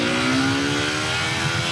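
Triumph Thruxton 400 single-cylinder motorcycle accelerating in first gear, its engine note rising steadily as the revs climb, loud and close with no talk.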